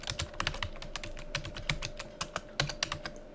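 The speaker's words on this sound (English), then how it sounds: "we can simply type" Fingers type quickly on a computer keyboard, entering a web address: a close, quiet run of crisp, uneven keystroke clicks with brief pauses between bursts, and no speech.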